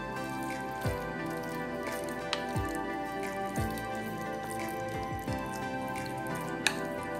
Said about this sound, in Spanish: Yo lo estoy revolviendo nomás aquí con una cuchara para que se mezcle bien el maní